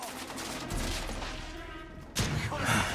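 An incendiary weapon firing aboard an airship in the video game The Order: 1886, rapid bursts of gunfire crackling in quick succession, close and moderately loud, with a heavier burst near the end.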